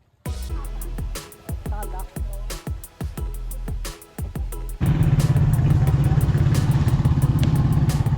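A motorcycle engine putters and revs in short bursts with clattering, then settles into a loud, steady drone as the bike rides on, heading off-road toward a forest waterfall in Davao Oriental, Philippines.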